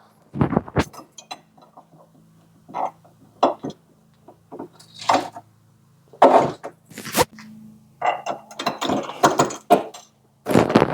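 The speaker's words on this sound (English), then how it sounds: "You will need a 1/2-inch wrench and a 1/2-inch socket to tighten these up." A socket wrench ratchets on the mounting bolts of a 4.5-inch homeowner vise, heard as bursts of clicking and metallic clanks separated by quiet gaps, close by with no talking.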